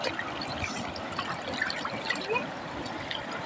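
Three chicken leg pieces scrubbed clean in river water on a riverbank make soft, continuous splashing and trickling, low in level and close by, with no talking.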